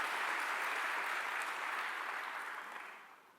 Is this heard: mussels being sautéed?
no